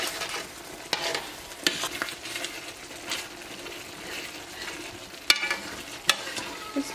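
Food stirred in a sticking pan over lowered heat, a steady sizzling hiss with scattered scrapes and clicks of the utensil against the pan, moderately close and without talk.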